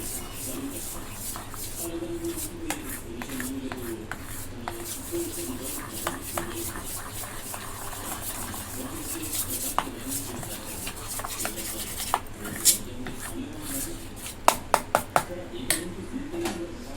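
Biscuit cake batter being stirred in a bowl, a soft scraping and swishing with the spoon knocking the rim now and then, the clinks turning sharper and more frequent toward the end, under a voice.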